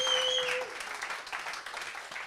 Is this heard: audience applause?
yes